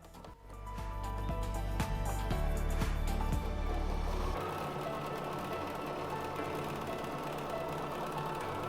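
A sewing machine stitching a test seam on leftover fabric, a steady close mechanical whir with a fast rhythmic clatter that runs for about four seconds, then drops away to a quieter, looser hum.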